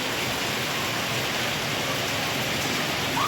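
Steady rain pours outdoors as a dense, continuous hiss, close and even, with no voices over it.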